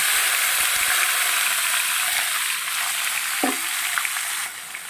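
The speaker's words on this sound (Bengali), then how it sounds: "ফোড়নটা ভাজা হয়ে গেছে দেখো বন্ধুরা এই পর্যায়ে আমি ভাজা সবজিগুলো আবার দিয়ে দেব" Fried vegetables go back into a pan of fried tempering: a loud, continuous close sizzle with a few scraping stirs; the hiss eases slightly near the end.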